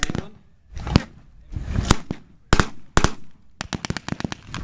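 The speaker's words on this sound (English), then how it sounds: "Check out that German machine gun, dude." A German machine gun firing at a WWII re-enactment battle, sharp bursts and single cracks heard in the open, ending in a quick rapid string of shots.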